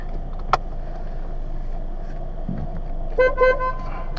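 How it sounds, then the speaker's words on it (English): A 2005 Volkswagen Jetta four-door sedan sounds its horn in two short honks near the end, heard from inside the car over a low hum, after an earlier sharp click. "Horn works."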